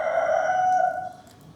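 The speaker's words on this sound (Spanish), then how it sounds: "Entonces cantó un gallo." A rooster crows once in a long drawn-out call, strong and fairly close, then trails off into quiet background.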